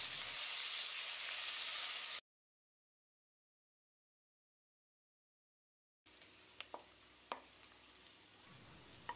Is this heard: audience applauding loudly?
no